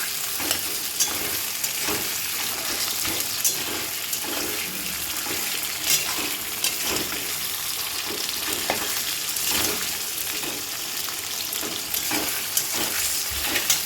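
Chicken pieces sizzle and crackle in a hot pan, a steady busy fry with sharp pops and occasional stirring scrapes, close and fairly quiet, with no talking.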